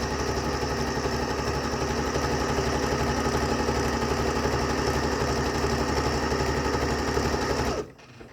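A sewing machine runs steadily, stitching a band onto a pair of handmade underwear, its even motor hum continuing for nearly eight seconds before stopping abruptly.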